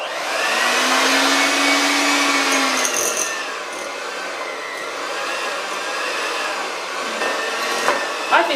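An electric whisk whirs steadily through cake batter in a bowl, a loud, close, continuous motor drone that wavers slightly in pitch as it works.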